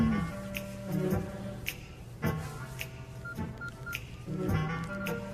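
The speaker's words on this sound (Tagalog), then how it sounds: "Ringtone ko yun." A melodic electronic phone ringtone plays, with short beeping notes over a busy, noisy background.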